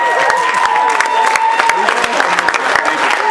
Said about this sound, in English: Wait for a wild applause to die down.